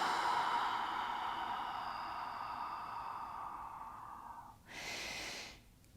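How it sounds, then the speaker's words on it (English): Deep yoga breath drawn in slowly through the belly and chest, then released in a long exhale; a soft, airy, close breath that gradually fades, followed by a brief louder rush of outgoing air. "Deep inhale into the belly. All the way up the chest. And exhale."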